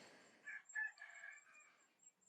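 A rooster crows faintly in the distance, one drawn-out call rising and trailing off, with a steady high whine in the background.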